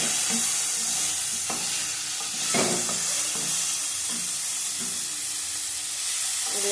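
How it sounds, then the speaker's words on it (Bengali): Cauliflower pieces fry in a pan with a steady hiss, broken by several stirring scrapes and one louder clatter near the middle, with no voices. "ফুলকপিটা ভাজা হয়ে গেছে"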